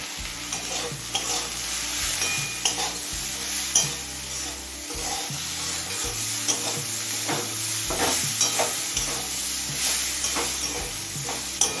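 Potatoes and onion with salt and turmeric are stirred in a hot pan, a steady frying sizzle running throughout while a spatula scrapes and turns the food in repeated, uneven strokes.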